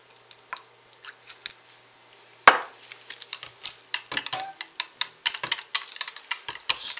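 Soap batter being stirred in a container after scent is added, a run of quick clicking, tapping scrapes with one sharp knock partway through, close and fairly dry.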